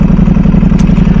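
Ducati V4 SP2 motorcycle with a baffled race exhaust, its engine running with a loud, steady throbbing drone and a short sharp flick partway through.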